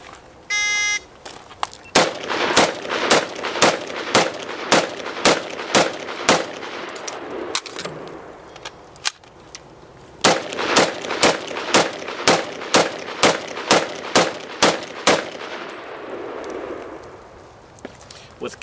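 A shooter fires two 10-round magazines at a target array, producing a steady run of sharp, loud gunshots at an even pace. A short pause splits the two strings for the magazine change, and a timer beep sounds at the start.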